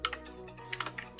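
Quick light keystrokes on a computer keyboard enter a chemistry formula into math software, several clicks in short uneven bursts, close and fairly soft over a faint steady hum.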